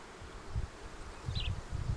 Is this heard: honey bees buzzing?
yes